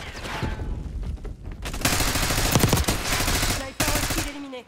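Rapid automatic gunfire in a multiplayer shooter game, with sharp, loud rattling bursts broken by brief pauses, plus a few quieter crackling shots at the start.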